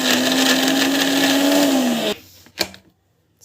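An electric mixer grinder whirs loudly at a steady pitch while grinding ingredients with cardamom, then cuts off about two seconds in, followed by a brief clunk of the jar and near silence.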